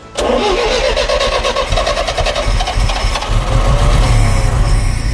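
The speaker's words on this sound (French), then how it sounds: "Et donc, toutes ces voitures démarrent?" An old car engine, about half a century old, cranks and catches, then settles into a loud, rough, throbbing run close by in a museum, with no voices.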